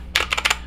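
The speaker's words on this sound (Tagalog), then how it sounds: "Etong keyboard na to, may potential pa siya na gumanda yung tunog kasi may space." A handful of quick clacky keystrokes on a mechanical keyboard with space beneath the plate for foam, close and crisp, about five taps in under a second.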